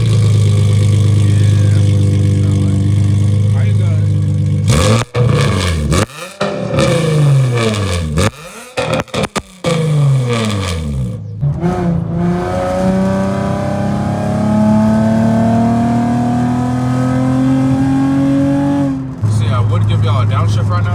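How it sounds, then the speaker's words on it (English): A car's exhaust drones steadily while driving, then rips through several quick revs and downshift blips before climbing into one long, loud pull; close and dominant throughout. "my exhaust has not sounded this good in a long time"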